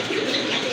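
A pigeon from a pair offered for sale gives a short, soft coo up close, heard alone with no talking.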